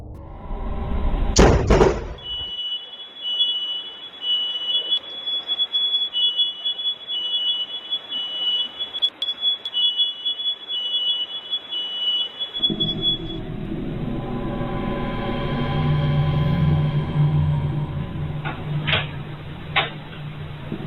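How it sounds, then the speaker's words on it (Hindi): A house fire alarm going off after a lightning strike knocks out the power, sounding as a steady high electronic tone that runs on with a rumble of background noise building underneath. "बिजली गिरते ही घर की लाइट चली जाती है और अचानक से फायर अलार्म बजने लगता है।"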